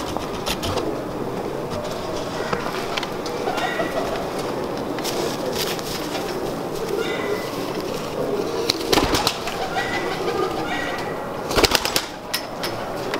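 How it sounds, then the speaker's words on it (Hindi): Dub pigeons coo softly amid a busy outdoor background, with occasional bursts of wing flapping standing out against the steady noise. "इनके डब वाले कबूतरों का शौक करते हैं।"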